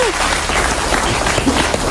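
A brief burst of applause from a crowd, steady and fairly loud throughout, with scattered hand claps blending into a continuous wash.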